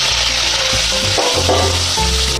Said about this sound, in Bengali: এবার আমি ওই তেলের মধ্যে দিয়ে দিচ্ছি গোটা আলু আর টমেটো